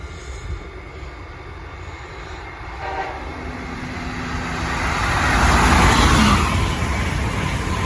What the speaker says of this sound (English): Anyways, Acela Express.